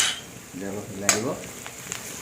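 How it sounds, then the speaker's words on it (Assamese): Spices and onions frying in a pan are stirred, with a soft steady sizzle and a brief scrape of the spoon midway. A voice speaks faintly in the background. "অলপ হিলাই দিব।"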